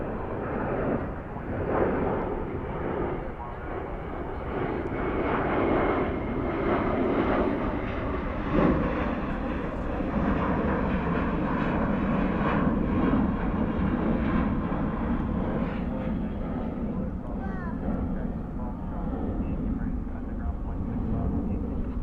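Airplanes departing DFW airport at golden hour produce a loud, sustained jet engine roar that swells and fades over the span, with a person talking over it.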